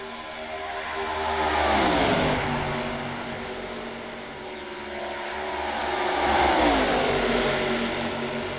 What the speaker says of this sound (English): Ace and Vietu still side by side here for 3rd place